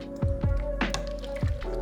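Cooked pasta lifted from the pot onto butter, with a few wet squishy plops and dripping pasta water over a steady low kitchen hum, brief and close.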